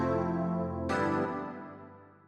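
Rhodes Affair electric piano plugin playing a sustained chord, then a second struck chord that decays slowly, heard alone and moderately soft.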